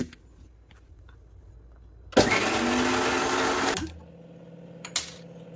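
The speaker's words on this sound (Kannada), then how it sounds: "ಇಷ್ಟು ಹಾಕೊಂಡು ಮಿಕ್ಸಿ ಮಾಡಿ ರುಬ್ಕೊಳ್ಳೋಣ." A kitchen mixer grinder whirs loudly for about two seconds, grinding grated coconut with cinnamon, black pepper, cloves and coriander powder, and quiet handling sounds come before and after.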